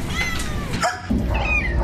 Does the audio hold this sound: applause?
no